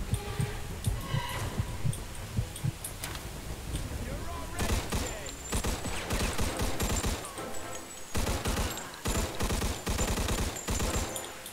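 Bursts of Thompson submachine gun fire with a drum magazine in Mafia II Definitive Edition, rapid clustered shots over a busy game mix with music and background effects, loud and close.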